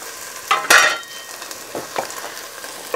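Garlic added to a pan of browned onions for chicken tinga sizzles briefly and is stirred, with a loud burst of frying followed by several softer scraping stirs.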